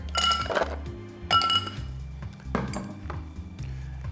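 Ice cubes clink and clatter into a chilled cocktail mixing glass while a gin martini is made, a few bright knocking bursts, the loudest near the start and the middle, over a low steady background.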